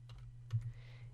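A few quick keystrokes on a computer keyboard, soft light clicks close to the microphone over a low steady electrical hum.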